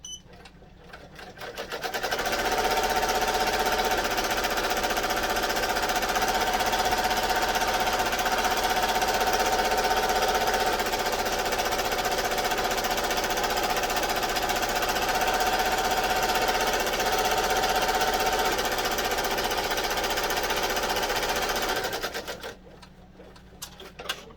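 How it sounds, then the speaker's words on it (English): An embroidery machine sewing a decorative stitch over red satin stitching runs as a steady, loud, rapid mechanical whir for about twenty seconds, starting and stopping cleanly, with no talk. "the next thing it's going to do is a pretty decorative stitch on top of the satin stitch"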